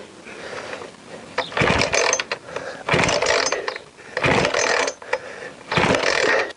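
Starter cord of a petrol chainsaw that won't start, yanked four times in a row: each loud, rasping ratchety pull is followed by a short pause, with no engine catching.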